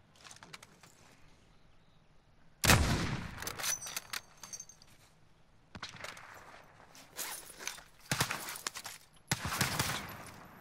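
Gunfire in Call of Duty: Modern Warfare arrives as sudden, sharp bursts after a quiet stretch, with several volleys and rattling shots of varying loudness scattered across the scene.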